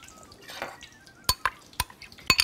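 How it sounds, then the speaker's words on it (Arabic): A beet and carrot salad with potatoes and dill is tossed in a bowl, with soft wet mixing followed by several sharp clinks of a utensil against the dish, close by. "ونقلب نقلب كويس قوي"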